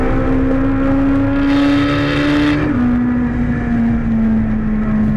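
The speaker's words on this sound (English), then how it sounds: "Up to sixth gear through the kink." Ferrari Challenge race car on board through a fast kink, its engine howling loud and close, revs climbing then dipping with a gear shift up into sixth before pulling on.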